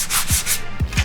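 Coarse 80-grit sandpaper rasps in quick back-and-forth strokes over Bondo filler on a 3D-printed helmet, close and scratchy, with soft thumps as the strokes change direction.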